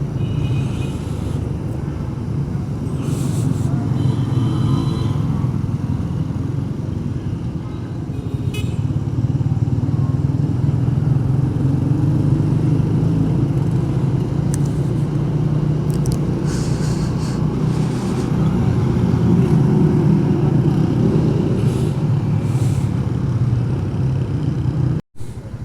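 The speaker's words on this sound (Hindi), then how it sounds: "ट्रैफिक में बिल्कुल फंसे हैं।" Dense traffic jam of cars and motorcycles on a hot road between Rawalpindi and Murree, a steady loud engine rumble with scattered short horn toots and idling motors.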